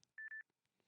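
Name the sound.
telephone tones ringing through on call-in line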